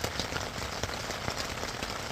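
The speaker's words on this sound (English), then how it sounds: "You're inside a warm tent, it's raining outside" Steady rain patters on the fabric of a Naturehike Massif hot tent, heard from inside as a dense, even wash of drops with scattered sharper taps, continuous and close throughout with no voices.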